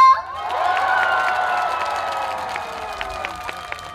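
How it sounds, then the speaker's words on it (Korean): A crowd applauds and cheers after a trot song at an outdoor K-culture expo concert. The sound starts with a loud burst and then holds as a dense, steady wash of clapping and shouting that tapers slightly, with scattered sharp claps near the end. "즐거우셨다면 다같이 박수와 함성!"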